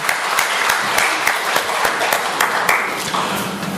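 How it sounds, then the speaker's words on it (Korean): Loud congregational applause in a church, given in praise to God after a choir's hymn, fills the room as a thick, steady roar of hands with a few sharper claps standing out. "하나님께 영광의 박수를 보내겠습니다."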